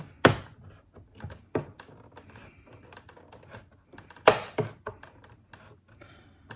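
A spudger pries open the plastic case of a Lenovo Ideacentre 510S all-in-one, giving a few sharp snapping clicks and small taps spaced out against near silence.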